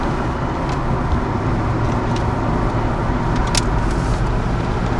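Steady, loud road noise from inside a moving Ford Crown Victoria, with a constant engine hum and tire rumble and no breaks.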